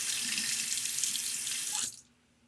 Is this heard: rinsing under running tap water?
yes